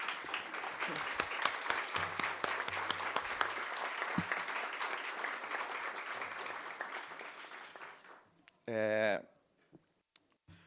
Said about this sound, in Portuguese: pedir uma salva de palmas à doutora Débora Duprá.